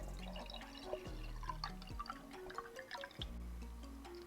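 Water poured into a glass, a faint, steady trickle with soft drips and gurgles lasting several seconds, no talking.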